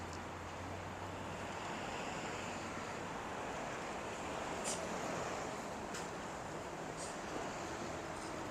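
Steady broadband wind blowing outdoors on a day out in Tokyo during the marathon, a continuous roar with microphone buffeting and no clear pauses across the whole stretch.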